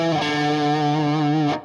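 An electric guitar arpeggio on a minor triad, played through distortion and effects. It comes out as a sustained, buzzy tone rich in overtones, loud and steady, then cuts off at the end. No one speaks.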